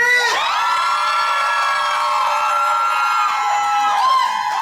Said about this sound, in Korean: 15년 전 그때 그 소녀들의 함성 소리!